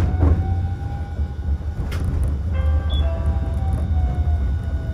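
A Hiroshima Electric Railway 1000 Green Mover LEX, a three-section low-floor tram, pulls away with a steady low rumble and rising tonal motor whine, a brief clank early on, heard alone without talk.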